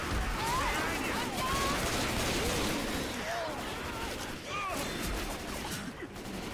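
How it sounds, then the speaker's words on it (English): Gunfire in a Left 4 Dead 2 No Mercy campaign on Expert, a dense, continuous barrage of shots with crashing impacts and game noise filling the whole stretch, with a voice talking faintly underneath. "Just shoot the smoker"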